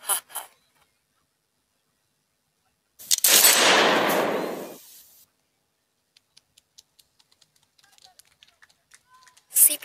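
Gunfire rings out in a school class performance, a loud, harsh burst of roughly two seconds in the middle, with short sharp bursts at the start and end and faint scattered ticks in between.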